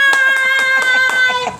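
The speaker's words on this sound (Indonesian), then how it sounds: "Wow, tepuk tangan dulu." Several people clap hands at a casual evening gathering of instructors, a handful of distinct claps spaced out under a steady high electronic tone, with a voice briefly audible.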